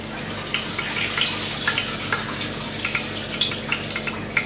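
Water runs while meat is rinsed, a steady wash of splashing with light, irregular drips and patters close by.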